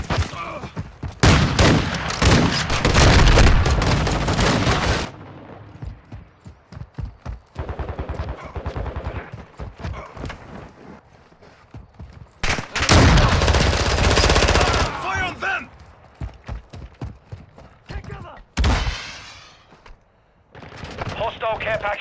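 Rapid automatic gunfire bursts and heavy shooting from Call of Duty: Modern Warfare II, loud and close, broken by quieter gaps between intense volleys, with speech mixed in at times.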